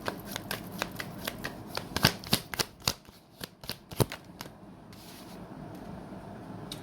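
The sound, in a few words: tarot cards being shuffled and drawn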